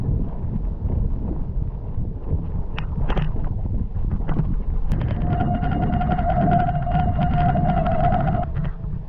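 Wind buffets the microphone in a constant low roar during a rainstorm in Lapland, with occasional thumps and a whistling tone rising in the gusts.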